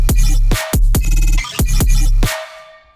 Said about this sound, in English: So it starts with this SERUM patch that I made.